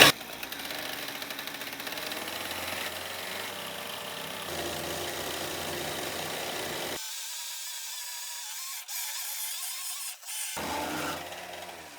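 A small gas engine runs steadily up close, with a brief dip in its drone partway through.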